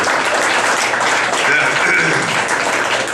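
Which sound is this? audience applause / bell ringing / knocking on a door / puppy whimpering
audience applause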